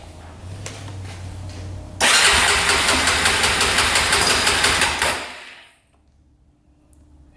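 A Honda 400ex quad idles briefly, then its throttle snaps open into a loud, sustained rev with a rattling edge for about three seconds before dropping away to near silence.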